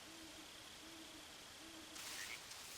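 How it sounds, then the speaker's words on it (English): A frog croaks in Metal Gear Solid 3, sounding as a faint, low, repeating call that comes three times at an even pace over a quiet ambient background, followed by a brief brighter rustle. "Oh, I hear a frog."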